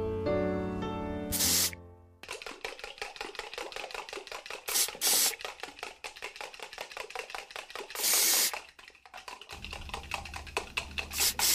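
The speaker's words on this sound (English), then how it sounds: "Why do you keep spraying me with that aerosol can?" Short bursts of hissing spray come in several separate puffs, broken up by quick tapping and clicking sounds nearby.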